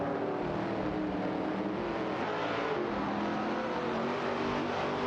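Continuous engine roar from race cars in a simulated racing game, including a Porsche 906 and a Chinook MK2, a steady dense drone with no clear pass-bys or pauses.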